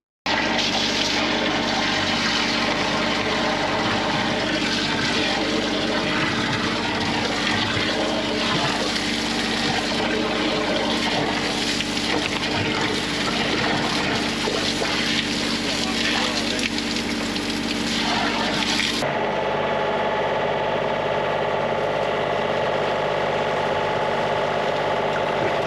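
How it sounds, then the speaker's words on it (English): Water flows through a sewer manhole after plunging, a loud continuous rushing and gurgling roar that drops abruptly to a quieter, thinner flow near the end, with machinery hum underneath. "After adding some water and a bit of a plunge, we then get the next manhole running."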